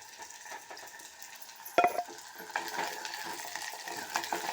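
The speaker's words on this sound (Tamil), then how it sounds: "எண்ணெய் சூடு எண்ணதும் வத்தலை பொரிச்சிக்கணும்" Dried vathal berries frying in hot oil, a soft crackling sizzle with a sharp metallic clink from a utensil partway through, followed by scattered stirring scrapes and pops.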